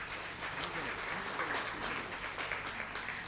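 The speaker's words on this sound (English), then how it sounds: "A huge round of applause again for his insightful words" Audience at an accreditation celebration event in a hotel ballroom applauding continuously, a dense, steady wash of many hands at moderate level with no distinct individual claps.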